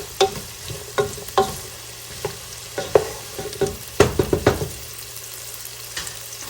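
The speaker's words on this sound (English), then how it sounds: "I'm gonna let these veggies cook over medium heat" Celery, onion, garlic and carrot vegetables frying in a pan over medium heat, giving a close continuous sizzle with repeated clattering stirs and scrapes at an uneven rhythm, loudest near the middle, with no talking.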